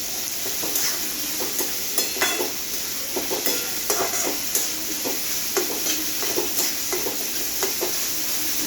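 Capsicum and onion stir-fry in a pan for Schezwan fried rice, with a steady sizzle broken by repeated scraping and clattering strokes of a spatula, close and alone.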